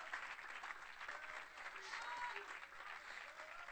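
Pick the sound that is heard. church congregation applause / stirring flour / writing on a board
church congregation applause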